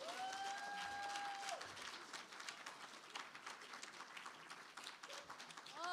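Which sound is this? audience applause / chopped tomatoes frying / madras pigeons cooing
audience applause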